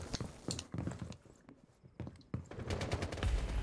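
Gunfire in the tactical shooter Rainbow Six Siege comes as clustered shots and short bursts with quiet gaps between, closing in a denser, louder flurry.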